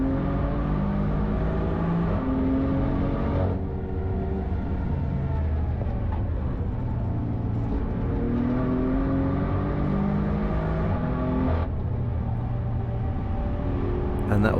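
A BMW M4 circles the Nürburgring at speed, its engine droning steadily and rising and falling through gear changes, a continuous close in-car roar that holds throughout.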